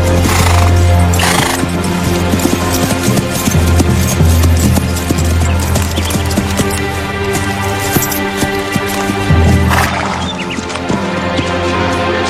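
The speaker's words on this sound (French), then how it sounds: "J'ai entendu un cheval approcher." A horse approaches in a French Robin Hood adventure series, loud clip-clopping hooves over a rumbling, busy backdrop with bursts of hissing noise and a whinny-like cry, continuous and close for over twelve seconds without speech.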